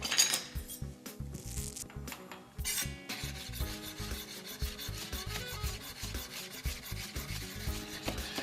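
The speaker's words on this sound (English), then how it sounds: "I'm just gonna give those a rough chop." A knife roughly chops skin-on peaches on a board, a close, steady series of quick knocking and scraping cuts with no talking.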